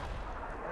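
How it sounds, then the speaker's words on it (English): A Predator missile strike explodes in a Call of Duty match, a dense, steady rumbling blast that fills the moment with heavy low booming noise. "Friendly Predator missile inbound."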